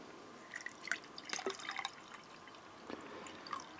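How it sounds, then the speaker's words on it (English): Water trickling and dripping into a glass to mix a Japanese Ramune-style powdered drink, a few soft splashes and drips, quiet and close, with no talking. "I'm going to add some water"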